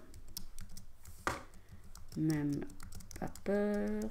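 Computer keyboard keys tap in quick light clusters close by while typing into design software, with a person speaking over and between the keystrokes.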